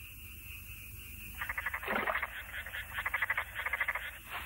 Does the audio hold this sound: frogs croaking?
yes